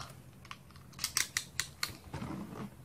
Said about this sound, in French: Vous découpez à l'aide du cutter